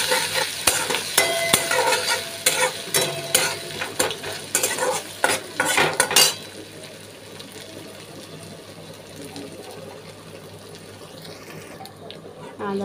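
A spatula stirs banana flower curry in a pan with close, loud scraping and sizzling strokes for the first half, then a quieter steady simmer-hiss carries on alone.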